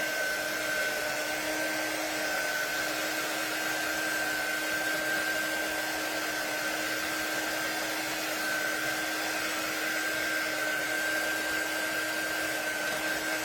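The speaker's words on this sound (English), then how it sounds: "Now, my dryer's not going to completely dry this" A hair dryer blows steadily for the whole stretch, drying a fabric transfer in a constant, loud, even whoosh with a high whine, uninterrupted and with no talking over it.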